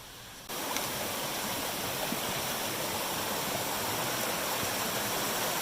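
A Vermont stream rushes in a steady, broadband wash of flowing water, close and continuous with faint gurgles, after a brief quieter moment at the start.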